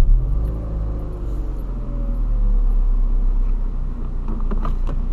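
A Ford Fiesta 1.0 engine turns over and settles into a steady low rumble, with a brief whining rise near the start and faint clicks toward the end.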